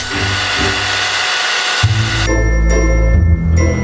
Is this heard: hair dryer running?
yes